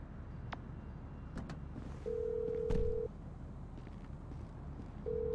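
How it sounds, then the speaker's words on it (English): A phone ringtone sounds in Grand Theft Auto V, a steady electronic tone playing in two spaced bursts about a second long over low engine-like background noise. "who changed my ringtone?"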